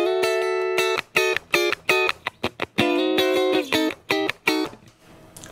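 Clean electric guitar through a compressor on a Positive Grid Spark amp, short funky chord stabs and muted strums with an evened-out level, close and alone.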